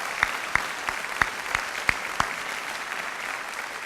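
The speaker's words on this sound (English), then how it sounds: "So the first round of applause today I would like to encourage you for is the staff of this school" An audience at a school commencement ceremony applauds the school staff with steady, even clapping at a moderate distance. A few sharper individual claps stand out at regular intervals, and no voices are present.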